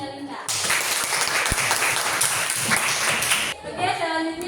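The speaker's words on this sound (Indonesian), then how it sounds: "berikan aplaus untuk saudari Melinda" A classroom audience breaks into sustained applause after a student's teaching practice presentation in an Islamic studies lesson, steady clapping for about three seconds, with voices briefly heard before and after.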